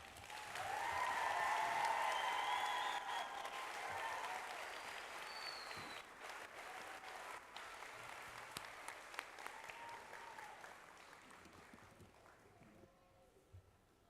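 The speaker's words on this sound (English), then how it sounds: "Let's give them a proper round of applause." Audience applause at a John A. Logan College nursing pinning ceremony, a full room clapping steadily for the graduates, loudest at the start and slowly thinning out over about fourteen seconds.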